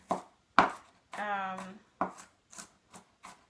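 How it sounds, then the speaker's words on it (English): Onions being chopped with a knife on a board while making refrigerator pickles with garlic and dill, giving several sharp, close knocks at an uneven pace, with one longer scraping stroke partway through. "I'm chopping onions"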